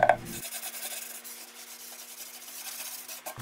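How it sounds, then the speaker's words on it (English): A putty knife scrapes wood filler on an old TV cabinet being refinished: a steady, close rasping rub that runs for a few seconds, with no voices. "scrape over with a putty knife, and then I brush over with my finger just to make sure everything's smooth"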